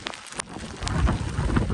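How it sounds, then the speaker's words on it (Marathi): Heavy rain pours down on a farm field during ploughing with oxen, a dense, close hiss of drops that swells louder partway through. "पाऊस एवढा जोरात आहे बघा"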